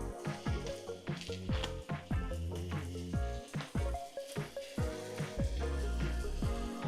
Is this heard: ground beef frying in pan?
yes